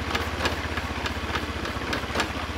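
A carbureted Honda Vario scooter engine idles steadily nearby, a rhythmic low putter with small fluctuations and no talk.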